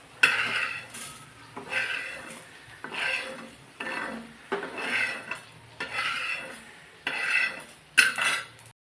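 Cooked matki dal scraped from a pan onto a plate with a spoon, a steady series of about eight close, clattering scoops and scrapes of metal on metal, each one short and separated by brief pauses.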